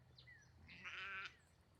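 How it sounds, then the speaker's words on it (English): Faint sheep bleats in the distance as sheep cross floodwater, a short wavering call in the middle, over quiet low background noise. "the sheep are coming across that water"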